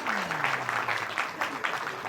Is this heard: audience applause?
yes